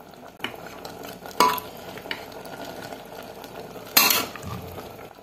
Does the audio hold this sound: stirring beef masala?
yes